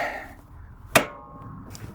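A single sharp metallic strike of hammers on a Toyota inner tie rod rings out once, close and loud, followed by a short ringing tail and quiet background.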